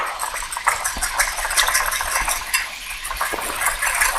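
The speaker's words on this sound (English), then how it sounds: "And then give it a whisk." Oil, vinegar and honey salad dressing whisked briskly in a bowl, producing a close, continuous rapid clatter of metal tines against the sides, bright and fairly loud.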